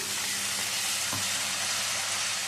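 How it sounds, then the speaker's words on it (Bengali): Spice masala sizzling hard in a pan as a little water goes in, a dense, loud, continuous hiss with a short thump of the pour in the middle. "এখন এর মধ্যে দিয়ে দেবো সামান্য জল"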